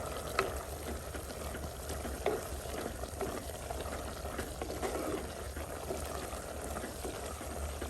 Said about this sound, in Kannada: ಈಗ ಇದಕ್ಕೆ ಪುಡಿ ಮಾಡಿರುವಂಥ ಮಸಾಲೆಯನ್ನು ಹಾಕುವ